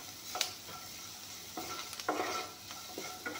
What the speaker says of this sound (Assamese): এতিয়া বইল কৰি থোৱা গ্ৰীণ মটৰ, বুটৰ দাইল, মুগৰ দাইলখিনি ধুনীয়াকৈ ইয়াতে দি দিম।